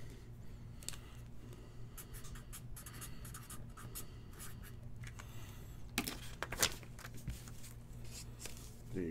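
Pen scratching a note onto paper, soft irregular strokes over a steady low hum, with a couple of louder taps or rustles midway.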